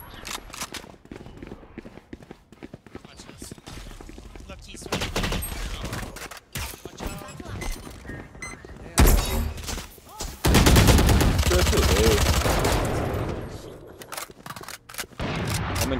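Gunfire in a first-person shooter video game, bursts of rapid shots and heavier volleys crackling close and loud, interspersed with footsteps and in-game effects, with players talking over voice chat.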